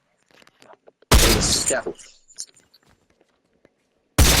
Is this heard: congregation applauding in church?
no